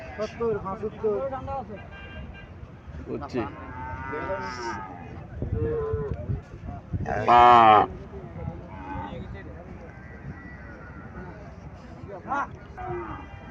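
An Indian Haryana cow at a livestock market gives a long, loud moo near the middle, amid lowing from other cattle, a car horn and steady chatter from people around.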